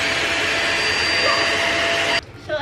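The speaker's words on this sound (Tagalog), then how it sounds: "Ang vacuum cleaner ko, the Deerma brand" A Deerma vacuum cleaner runs with a loud, steady broadband whine and hum, close by, then cuts out abruptly near the end.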